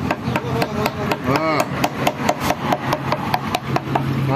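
A hand chisel carves a wooden sign, making a steady series of sharp taps and scraping rubs on the wood, close and regular, with a brief squeak partway through.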